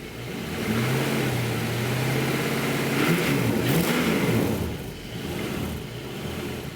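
LS V8 engine fitted with Holley EFI, cranking and catching, then revving with a steady rising and falling drone; one clear rev swell mid-way before settling back to a loud idle.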